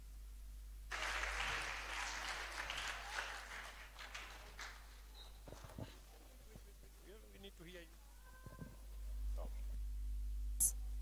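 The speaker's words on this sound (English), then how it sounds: "All right, you can give a clap to the children." At a church Vacation Bible School gathering, an audience claps for the children, a soft burst of applause fading after a few seconds into quiet murmuring voices and room hum.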